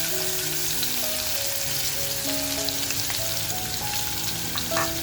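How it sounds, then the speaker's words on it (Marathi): Chopped onion frying in hot oil in a pan for a mutton masala, a steady, dense, close sizzle and crackle that continues without a break, with no voices. "आपण जो कांदा घेतलाय ना तो अगोदर कांदा टाकून घेऊया."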